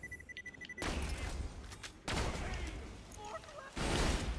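Weapon fire in the video game Borderlands 2 comes in three loud bursts of rapid shots, each followed by crackling impacts and game effects, close and dense.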